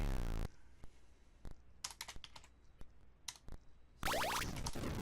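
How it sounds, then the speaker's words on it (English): Keys tapped on a computer keyboard come in scattered quick clicks and short bursts, set between louder bursts of game sound from Dungeons of Daggorath at the start and end. "Messed up my typing."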